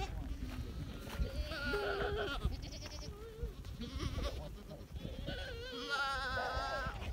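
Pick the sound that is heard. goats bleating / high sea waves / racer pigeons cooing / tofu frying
goats bleating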